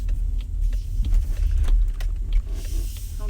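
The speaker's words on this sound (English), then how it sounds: "He would have got to hear my car driving" A car's engine runs steadily with a deep, continuous low rumble, close and fairly loud throughout, with no talk over it.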